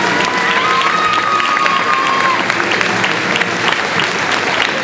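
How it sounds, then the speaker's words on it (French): Crowd applause for the prize winner at the Lido de Paris Trophy ceremony during the Longines Masters Paris show-jumping event, a loud dense wash of clapping and cheering with a thin whistle-like tone early on. "sous vos applaudissements"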